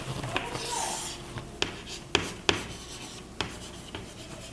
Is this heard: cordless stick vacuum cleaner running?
no